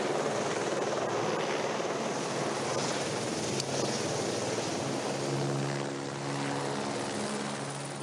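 A helicopter flies near the construction site of a medieval castle with wooden scaffolding, a constant loud rotor and engine roar that holds steady and then eases slightly near the end, with no talk.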